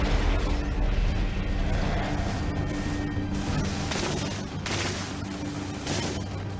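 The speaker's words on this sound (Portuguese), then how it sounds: "havia uma metralhadora MG-42 disparando 25 balas por segundo" War scene with an MG-42 machine gun firing, a dense continuous roar of rapid gunfire and distant explosions filling the whole stretch at loud, steady volume.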